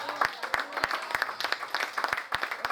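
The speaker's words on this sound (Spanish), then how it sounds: "Den un aplauso fuerte." A church congregation claps in loose, fairly regular sharp beats, a short burst of applause with some murmuring voices mixed in.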